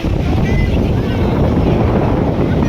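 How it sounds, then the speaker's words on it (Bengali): Strong wind at New Digha sea beach buffets the microphone with loud, continuous low roaring gusts, drowning out the surroundings. "তেমনি ঝোড়া হাওয়া চলছে।"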